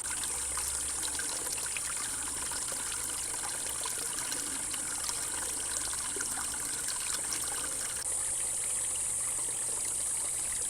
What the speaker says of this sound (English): I love to hear the sound of the brook as it flows down the mountain